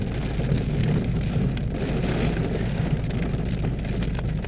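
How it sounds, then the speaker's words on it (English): Steady rain falling during a lightning storm, a continuous moderate hiss of drops on surfaces with no talk. "The rain is coming down, coming down."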